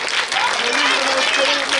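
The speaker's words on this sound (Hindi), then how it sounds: "तालियां जोर से बजाया करो।" Audience applause at a Republic Day school celebration at Sun Indian Public School, a dense, steady wash of clapping filling the whole stretch, with a dip near the start and a faint voice carrying through.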